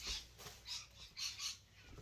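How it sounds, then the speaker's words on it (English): Parrots calling outdoors in a noisy burst of repeated shrill squawks, fairly loud and coming in two or three rising clusters with no talk over them. "You hear those parrots out there going off?"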